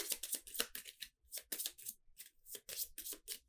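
Game cards are shuffled up close in repeated quick bursts, each a soft papery riffle, then a short gap before the next, with no talking.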